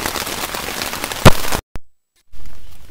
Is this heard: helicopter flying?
no